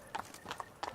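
Roach the horse's hooves clip-clop in a quick, even walking rhythm in The Witcher 3, faint and close, with several distinct hoofbeats over one second.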